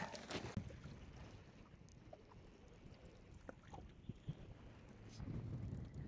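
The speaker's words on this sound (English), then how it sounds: "That's gonna just be the wind" Wind gusting across shallow water during a catfishing outing, a low, rumbling buffet against the microphone that swells near the start and end, with faint muffled voices in the background.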